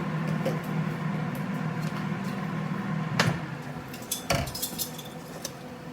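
Food flipped in an air fryer oven, with metal tray and utensil clinks and a couple of sharp clattering scrapes over a steady fan hum, close by.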